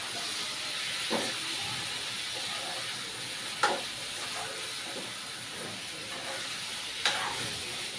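Chicken and tomato being stirred into a hot curry pan, a continuous steamy sizzle and hiss with a few scraping stir strokes standing out at intervals, close and fairly quiet.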